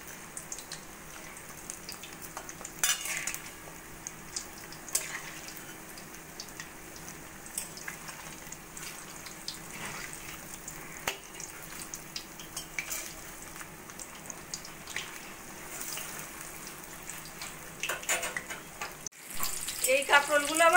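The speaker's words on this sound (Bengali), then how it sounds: "একইভাবে আমি বাকি কাঁকরোলগুলো ভেজে নেব।" Stuffed kakrol (spiny gourd) frying in oil, a long low steady sizzle with scattered clinks and scrapes of a utensil in the pan, a louder stir near the end.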